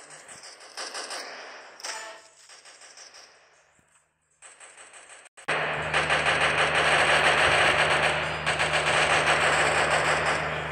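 Gunfire in a shooting video game crackles in scattered bursts at first, drops briefly near silence, then swells into loud, sustained automatic fire with a low rumble underneath.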